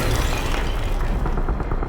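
A grenade explodes in the horror video game Amnesia: The Bunker. A loud, dense roar of blast and rumble fills the whole moment without letting up.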